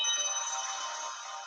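A phone ringtone plays as a sustained, bright electronic tone with a steady pitch, fairly loud and close, with no talking over it.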